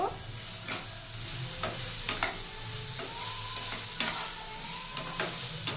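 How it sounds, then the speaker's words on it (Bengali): Kabuli chickpeas are stirred into sizzling spice masala in a pan: a constant close frying hiss broken by repeated spoon scrapes and clacks against the pan. "এবার আমি কাবলি ছোলাগুলো দিয়ে দেবো দিয়ে নাড়াচাড়া করে নেব"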